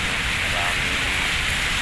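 Light rain falls on an overcast day during a walk, a steady, close hiss that holds evenly throughout with no breaks.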